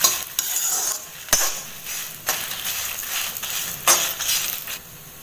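Garlic sizzles in a pan for crab masala while a metal spoon stirs and scrapes, sharp clinks punctuating a steady frying hiss at close range.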